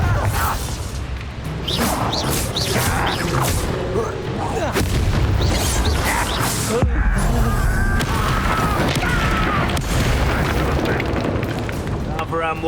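Hogwarts Legacy on Nintendo Switch: Bombarda explosion spells burst repeatedly in a dense, loud battle, booming blasts and crackling impacts stacked over continuous combat noise, with voices speaking throughout.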